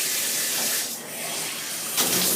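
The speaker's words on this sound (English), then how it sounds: "Let's turn the water on." Shower head spraying water after being turned on, a steady broadband hiss that surges briefly partway through, close and alone with no talking.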